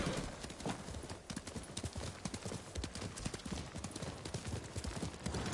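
Several horses' hooves clip-clopping in Ghost of Tsushima, a busy overlapping patter of hoofbeats from a group of riders, fairly close and continuous, with an occasional whinny.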